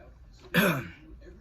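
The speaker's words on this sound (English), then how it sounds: "I'm sorry if I'm clearing my throat or coughing throughout the video." A single short throat clearing, close and fairly loud, lasting under half a second against quiet room tone.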